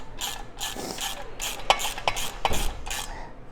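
Bolts on a Land Cruiser LX470 rear bumper with nylock washers are tightened by hand with a clicking ratchet, giving short, close bursts of metallic ratcheting in an otherwise quiet space.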